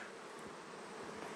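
Honey bees buzz around open hives during a colony transfer, a faint, steady swarm hum with no voices.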